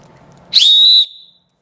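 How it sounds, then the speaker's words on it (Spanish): A single sharp, shrill firefighter's whistle blast held for about half a second, loud and close, then cut off abruptly into silence. "sonar el silbato para que nos pudieran ubicar"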